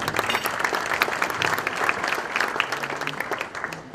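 An audience at an economic outlook seminar breaks into steady applause, dense and even clapping that holds at a fairly loud level for several seconds before easing slightly at the end.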